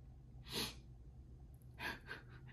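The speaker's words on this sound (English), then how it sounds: "I think I have to sneeze again." A sneeze bursts out, followed a moment later by a second sneeze and a few sniffly breaths, all fairly quiet and close.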